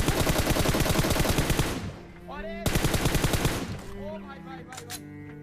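Rapid automatic gunfire from the video game PUBG crackles in two long sustained bursts, loud and close, with a short pause between them and someone speaking faintly underneath.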